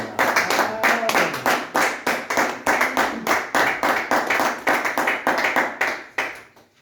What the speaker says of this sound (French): c'est le moment des acclamations, c'est le moment des cris de joie